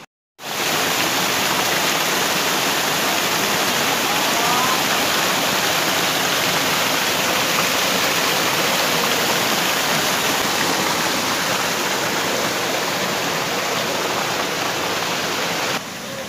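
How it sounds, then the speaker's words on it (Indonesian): Water rushes loudly down a village river channel, a dense continuous roar like a small cascade, close and unbroken, with no voices. "Jadi airnya itu semuanya ngalirnya ke sini."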